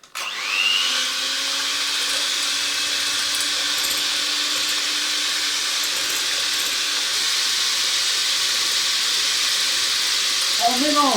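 Electric mixer whisking egg whites in a bowl, a steady high whirring motor drone that starts abruptly and runs continuously, loud and close, with a voice speaking faintly underneath.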